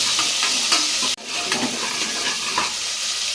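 Small shallots frying with cumin and mustard seeds in hot oil, a continuous close sizzle with stirring scrapes and a brief sharp break partway through.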